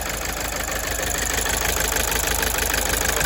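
A Toyota Avensis engine with a fault, four injectors and the airflow meter disconnected, idles steadily with a continuous rumbling drone and faint knocking texture, close and constant throughout with no talk.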